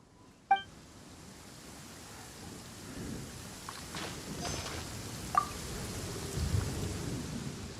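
Rain falls steadily in a Genshin Impact game scene, with a few sharp cracks of thunder and low rumbles rolling underneath, close and fairly loud with no voices over it.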